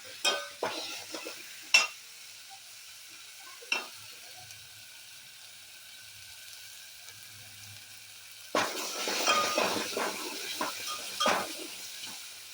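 Ground masala paste for a drumstick bhaji is stir-fried in a pan: scattered spoon scrapes and clacks over a quiet background, then a louder stretch of sizzling and stirring toward the end.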